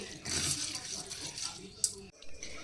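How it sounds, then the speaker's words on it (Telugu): Water is poured over soaked moong dal to rinse it for sambar rice, a steady close splashing rush lasting about two seconds before cutting off abruptly, followed by a faint trickle. "ఇట్లా వాటర్ పోసుకొని ఒక 1 టైమ్ 2 టైమ్స్ అట్లా వాష్ చేసుకొని నానబెట్టుకోండి"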